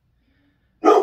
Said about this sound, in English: my dog is barking and barking and barking